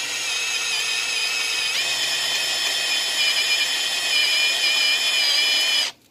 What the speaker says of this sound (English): Creates a nice groove for my hole saw to start without it breaking my drill bit.